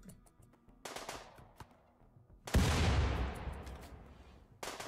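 Gunfire in RimWorld: sharp bursts of shots cut in and out, then a heavy blast that decays over about two seconds, with another burst at the end, loud against near silence.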